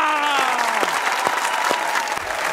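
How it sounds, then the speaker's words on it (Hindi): A studio comedy-show audience breaks into loud, sustained applause as a guest is welcomed onto the stage, with tonal sounds carrying over the clapping. "आपकी भरपूर तालियों में स्टेज पर बुला रहा हूं स्टेज की जान"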